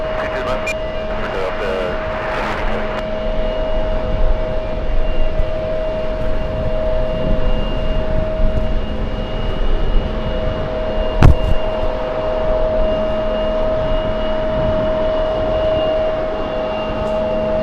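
Aircraft engines rumbling at JFK airport, a continuous, fairly loud droning roar carried on gusting wind, with faint radio chatter and a brief sharp knock partway through.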